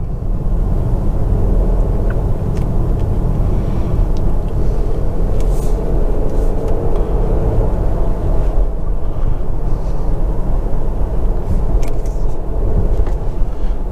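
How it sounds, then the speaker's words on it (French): A Mercedes GLC 300e coupé plug-in hybrid with 4MATIC and 320 horsepower drives through a village, its petrol engine giving a steady low hum under rumbling road and cabin noise. "Et il y a le moteur essence qui marche toujours hein."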